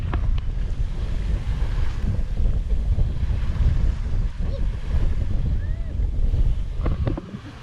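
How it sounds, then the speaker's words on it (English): Under sail in calm seas, wind buffets the microphone and gentle waves wash along the hull in a continuous, broad rush, with a faint creak near the end. "Calm seas, wind, let's go sailing."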